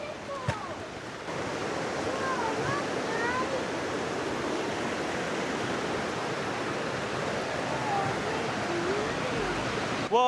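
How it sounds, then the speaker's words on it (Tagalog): Sharplin Falls in New Zealand: a steady, broad rushing of falling water heard from a bridge, constant and moderately loud throughout, with faint voices and a brief knock near the start. "Waterfall."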